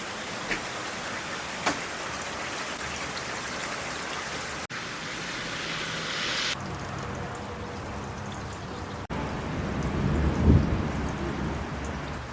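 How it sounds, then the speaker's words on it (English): A passing thunderstorm brings steady, heavy rain hissing on surfaces throughout, with distant rumbles of thunder and a louder low roll building near the end. "So apparently today we're supposed to get this massive storm"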